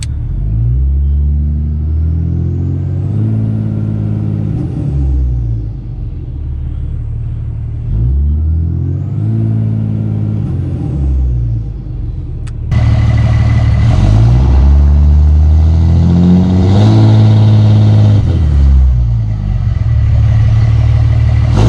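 A Smarty-tuned pickup truck accelerates hard, its engine rumbling and revving loudly and continuously up close, with a steady drone that swells into a fuller, louder roar partway through.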